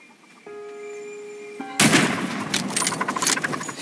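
A single sharp gunshot fires in The Red Lantern video game, a loud broadband crack that cuts in after a quiet tonal passage and decays into a crackling, rumbling tail.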